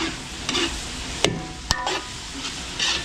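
Ingredients for a Filipino-style carbonara sauté in a pan at a catering kitchen, a steady close sizzle with scraping stirs and a couple of sharp utensil knocks.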